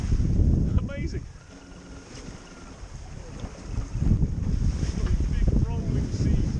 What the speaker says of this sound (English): They're not violent, you know, they just got big rolling waves. It's the Atlantic swell